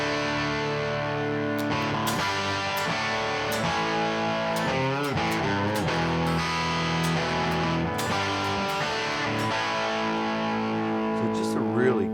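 A Schecter Apocalypse electric guitar plays sustained chords and bends through moderate, fat-sounding distortion, loud and continuous, with notes ringing into one another.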